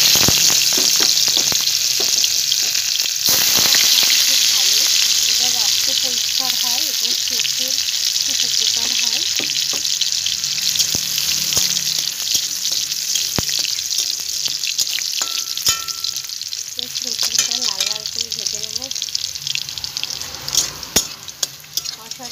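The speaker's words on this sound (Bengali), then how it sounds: "কড়াইতে তেল গরম হয়ে গিয়েছে, কচু রসুনটা ছেড়ে দিই।" Garlic and chilli sizzle in hot oil in a wok while cooking kochu shak, a steady loud frying hiss throughout with occasional stirring clinks and scrapes, no talking.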